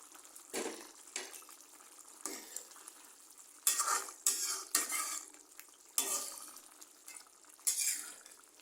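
A spoon stirs spiced beef liver with a little water in a pan, giving repeated scraping strokes in an uneven rhythm over a soft sizzle, close and clear.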